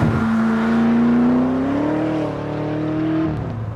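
BMW M5 engine in a Wiesmann GT MF5 accelerating hard, a loud, close, steady rising drone that climbs in pitch, eases briefly and climbs again before cutting off near the end.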